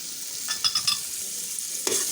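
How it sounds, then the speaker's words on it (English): Chopped onions and pepper are stirred in a frying pan, giving a faint steady sizzle with a few soft scraping strokes from the spoon. "Now you stir."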